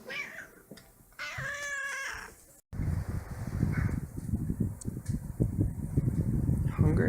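A hungry house cat meows twice in short, close calls, followed by steady rustling and handling noise; a person's voice may be faintly present.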